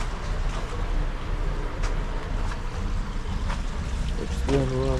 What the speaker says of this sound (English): Got a slurry pump in here.